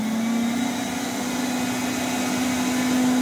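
A 1989 Rainbow D4C vacuum cleaner runs continuously at a steady pitch during a suction test, a loud, even motor whine with no interruptions and no talking.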